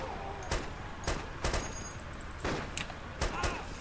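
Gunfire in the video game Arma 2 crackles as scattered single shots and short bursts, several sharp reports spread irregularly over a few seconds with a constant background hiss, under faint game noise.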